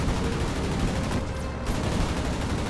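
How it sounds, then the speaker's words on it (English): Aircraft cannon fire during a heavy dogfight in the World of Warplanes video game, a dense, continuous rattle of rapid shots with a brief lull in the middle, loud and close. "It's got a few good hits with the cannon."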